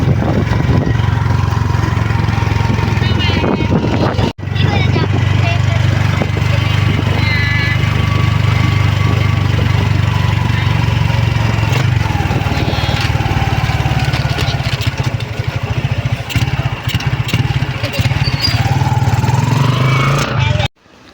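A motor tricycle engine drones steadily while riding, loud and close, with a brief dropout partway and voices talking over the noise.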